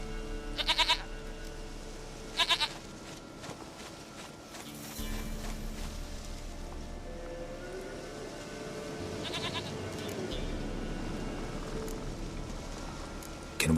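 A goat bleats in The Witcher 3: Wild Hunt, with two short bleats near the start and another later, set against game music and ambient noise.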